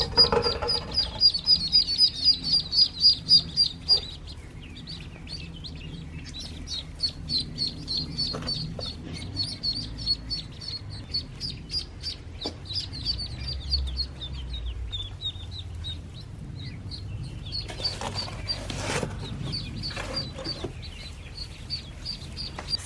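Ducklings peep in a brooder under a heat lamp, a steady stream of high chirps running throughout at close range, with occasional soft clatter and rustling behind.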